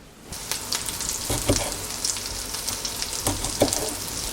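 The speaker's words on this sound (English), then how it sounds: "The oil has heated up, and I'm going to add the more like patties than meatballs" Meat patties frying in hot oil in a pan, a steady close sizzle with crackling bursts and a few louder pops as they cook undisturbed.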